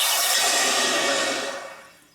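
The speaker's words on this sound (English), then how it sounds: "So we are now going to quench it." A hot silver bar quenched in water gives a loud, steady hiss of steam that holds strong, then fades away over about two seconds.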